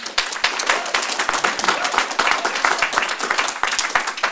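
An audience claps loudly and steadily throughout, a dense wash of many hands that keeps going without a break.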